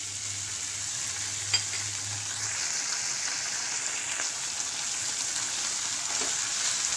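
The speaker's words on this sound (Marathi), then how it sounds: "परतवून घेऊया आपण।" Ginger garlic paste sizzles steadily in a hot pan as it is sautéed, a continuous close frying hiss with faint stirring scrapes.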